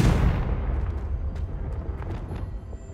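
Confringo, an explosive spell in the Hogwarts Legacy video game, goes off as a loud booming blast right at the start and then fades into a rumbling decay with faint crackles.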